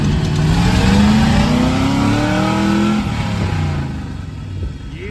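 A car with a 31-year-old power steering pump, just refilled, runs loud and close, its engine revving up in rising sweeps and then settling back as the revs fall.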